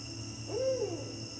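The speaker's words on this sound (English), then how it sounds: "Even the owl wants to get on it." A single low owl hoot from a cypress tree in a Louisiana swamp at night, a soft rising-and-falling call heard at a moderate distance over a steady background of insect buzz.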